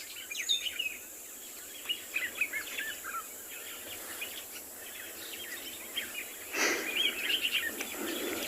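Faint chirps and calls from a mixed bird party including bulbuls on an afternoon safari in South Africa, scattered short phrases at a distance over quiet background hiss, with a brighter burst of calls partway through.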